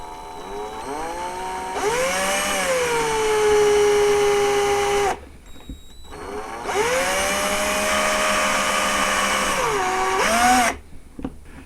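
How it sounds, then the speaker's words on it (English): A power drill whines loudly in two long bursts, pitch dipping as it bites into a broken plastic peg, with a brief pause between runs. "I have my drill here, and I'm going to very carefully drill this out."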